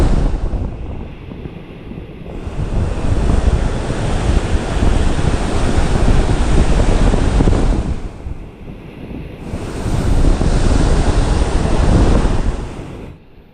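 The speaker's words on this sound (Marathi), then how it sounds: "ती बघ ती लाट आली ना आता" Sea waves crash on the shore at a fishing spot, two big surges building, roaring and falling back, loud and close, with wind buffeting the microphone.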